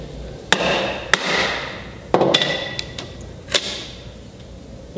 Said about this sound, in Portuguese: Vamos ver com o macete.